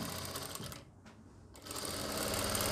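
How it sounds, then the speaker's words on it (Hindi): Sewing machine running a stitch along the lining at a kameez armhole, a steady close whir that pauses briefly partway through and then resumes, with no talking. "देखिए जैसे मैं सिलाई लगा रहा हूँ सेम आपको यहाँ पे सिलाई लगानी है"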